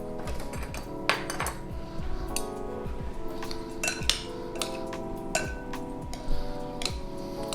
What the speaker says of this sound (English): Let's give that a stir around.